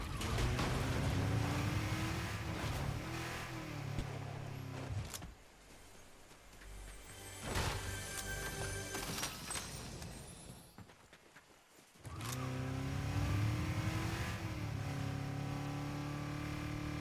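A car engine revs in a video game, loud and close, with steady engine drone broken by shifting pitch sweeps and a quieter stretch in the middle before the full roar returns, like acceleration and passing.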